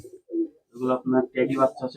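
Murshidabadi pigeons in a loft giving a few soft, close coos in short bursts, the calls rising and falling over about two seconds.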